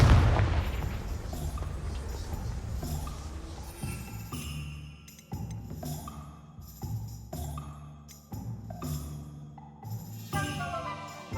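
The Confringo explosion spell in Hogwarts Legacy, opening with a loud boom that decays into ringing magical tones, followed by several lighter bursts and chimes from the game's effects.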